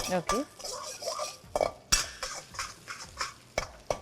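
A metal spoon stirs chopped green chillies in a pan for a tomato chicken stir fry, giving close, repeated scraping clinks and taps at an uneven rhythm with no talking.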